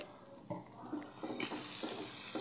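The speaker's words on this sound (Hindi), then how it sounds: "हाँ जी, अच्छी तरह से सब मसालों को मिक्स कर लीजिए।" A spoon scrapes and stirs through a thick chicken Manchurian sauce of spices, sugar and chili sauce in a pan, with soft repeated scraping strokes over a faint steady sizzle.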